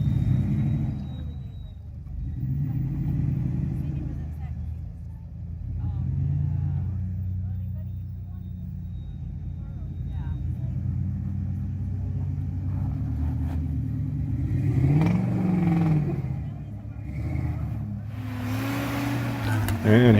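A Dodge Durango drives past on a memorial ride, its engine rumbling low and swelling as it nears, then a second surge of revving and a louder pass toward the end, with people talking faintly in the background.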